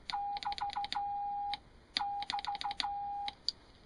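Keying tone from a Euro 50C5 transmitter: a clear steady beep pulsed on and off in rapid Morse-like bursts, two groups separated by a short pause, loud and alone.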